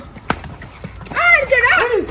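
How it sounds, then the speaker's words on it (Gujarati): A couple of sharp hoof clops from a mare on a hard surface, then a loud, high, wavering vocal sound takes over. "આપણી કેસર ઘોડી અંદર જશે"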